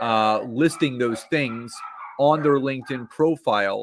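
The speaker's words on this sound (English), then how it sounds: "And if you hear some barking in the background" Dogs bark and yip in the background, partly masked by a person talking steadily in the foreground.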